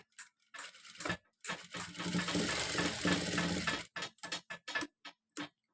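A domestic sewing machine stitches a hook-and-eye strip on folded fabric, running in a steady whirring burst of a couple of seconds, framed by short separate bursts of stitching before and after, close and fairly quiet.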